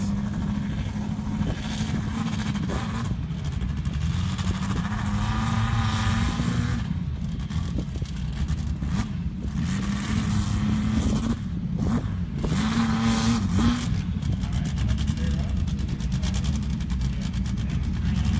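Race car on track during Saturday qualifying at the SCSDA March Madness event, engine droning loudly and continuously with rising revs and pitch sweeps as it passes, a faint voice occasionally under the noise.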